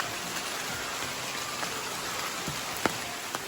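Steady rain falls in a forest in Daniel Boone National Forest near a waterfall, a dense continuous hiss of drops with a few louder nearby drips standing out.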